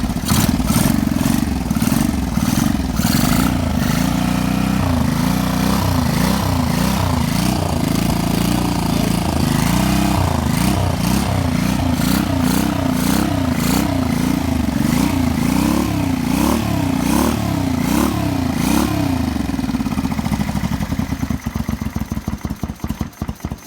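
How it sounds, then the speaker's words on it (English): A 1985 Honda VT 500 motorcycle engine runs close and loud, idling with rough pulsing throb and some revs, then the beat changes near the end; fuel is leaking a little. "It actually cranks up and runs pretty good."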